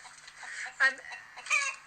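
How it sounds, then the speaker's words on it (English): A hen near nest boxes gives a few clucking, squawking calls around egg laying, with two louder bursts standing out over a low, steady background of other fowl and faint talk. "I'm not entirely sure why this hen is making that noise, but they often make this noise before or after they lay an egg."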